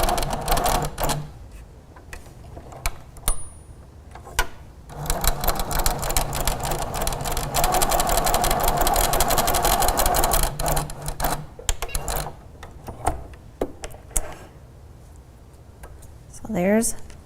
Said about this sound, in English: So we're going to stitch right from corner to corner.